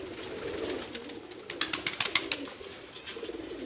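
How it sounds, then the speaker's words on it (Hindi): Pigeons in a loft or on a rooftop in overcast, stormy weather, with soft coos and a burst of wing flaps and fluttering in the middle, fairly close and moderately loud over a steady low background hum. "कबूतर क्या पकड़ना, ये नीचे से खुद ही उठ रहे हैं"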